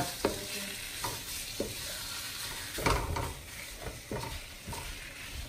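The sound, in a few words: stirring green beans and beef sizzling in a pan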